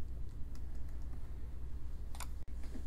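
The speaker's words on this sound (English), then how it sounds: "press enter and key in a close parenthesis and a semicolon" A few light keystrokes on a computer keyboard tap out sparsely over a heavy low rumbling background.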